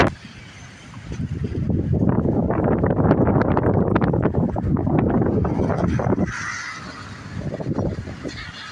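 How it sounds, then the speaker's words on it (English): Strong wind roars and buffets the microphone in heavy, surging gusts at a cold-weather boondocking campsite, easing off near the end. "It is windy as heck, folks."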